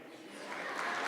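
An audience at a university media and communication research conference applauds, a continuous wash of clapping that swells gradually louder over about a second.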